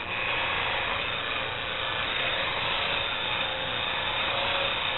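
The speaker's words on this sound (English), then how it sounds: "We're going to bring the bowl gouge up into the grinding wheel" A bowl gouge is held against a spinning grinding wheel and sharpened at a 40-degree angle, giving a steady, unbroken grinding hiss and whir that stays close and level for the whole stretch, with no voices.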